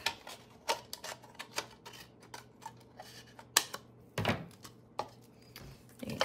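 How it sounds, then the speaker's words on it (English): Scissors snip through the bottom of a plastic cup in a run of sharp, irregular clicks and crunches, close and fairly loud, with brief pauses between cuts and no talking. "So I would start by cutting out a little hole so then you can get your scissors in."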